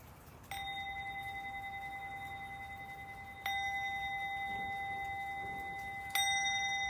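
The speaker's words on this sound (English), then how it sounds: "Allow yourself this time to just listen to the bell." Three clear bell strikes, each ringing out with a long sustaining tone that overlaps the last, spaced a few seconds apart with no talking.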